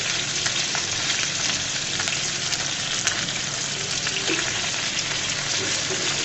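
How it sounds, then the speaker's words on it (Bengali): Fish deep frying in hot oil gives a dense, continuous sizzle and crackle, steady and close throughout with no talking. "মাছটাকে একটু ডিপ ফ্রাই করে ভেজে নিব।"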